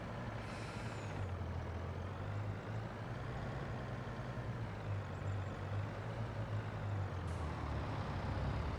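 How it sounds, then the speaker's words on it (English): A truck pulling a trailer maneuvers in Farming Simulator 22, with a steady low diesel engine drone throughout and short hissing air-brake releases near the start and again later. "let's swing this trailer around"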